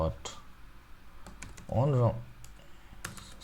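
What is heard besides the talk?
typing code on a computer keyboard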